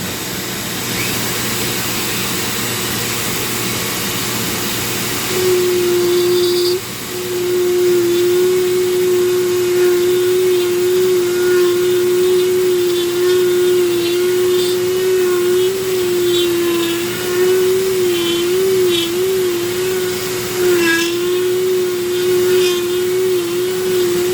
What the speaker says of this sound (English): Okay, Dremel time.